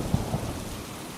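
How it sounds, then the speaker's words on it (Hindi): Torrential rain pours steadily on a stormy night, a dense close hiss with a low rumble of thunder underneath and a couple of brief heavier thumps early on, no voices. "मूसलाधार बारिश है, आज रात को नहीं रुकेगी।"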